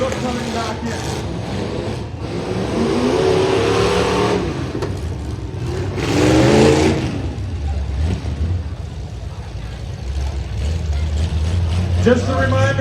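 Pickup trucks at a demolition derby in Salmon Arm, including a Ford Super Duty, rev their engines with a steady rumble that swells twice, mixed with talk and crowd noise.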